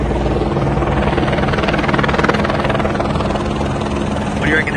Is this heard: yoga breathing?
no